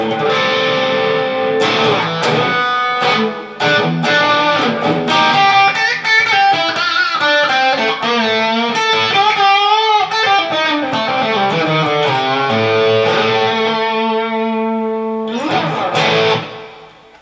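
Harley Benton CST-24 Deluxe electric guitar played through effects, sustained distorted chords and melodic single-note lines with bends, loud and up close, with no talking, ending in a ringing chord.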